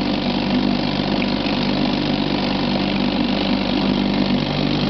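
An old Johnson 3HP outboard motor with an unadjusted carburetor, running steadily at a constant idle, a loud continuous close-up engine drone with no talk.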